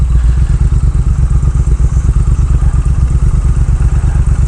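A Triumph Thruxton R motorcycle engine while riding, a loud, steady low throb with rapid rhythmic pulsing at modest revs, close and continuous throughout.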